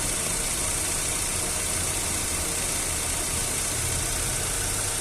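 A 2009 Opel Astra engine idles steadily with a suspected fault, giving a constant dense mechanical hum and hiss close to the microphone, with no pauses or voices.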